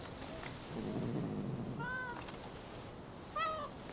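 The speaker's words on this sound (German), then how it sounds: "Das ist eine Katze" Two short meows from a cat in the video game Rise of the Ronin, one near the middle and one near the end, heard over a low, steady game ambience with no talking.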